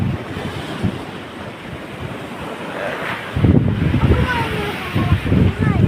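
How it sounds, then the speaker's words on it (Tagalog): Strong typhoon wind roars and big waves crash at a port in General Luna, Quezon. The gusty, rushing noise swells into heavier surges of surf about halfway through, with a voice partly heard over the storm. "malakas lang ang hangin at saka malaki ang alon"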